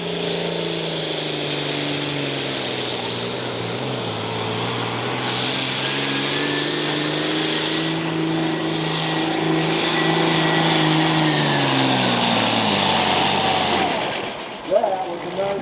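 A pulling tractor in the hot stock or 85 limited pro class at a tractor pull in Rockwell, Iowa, roars at full throttle, building boost in a long, loud, sustained drone that rises and shifts pitch before cutting off, with an announcer talking over it.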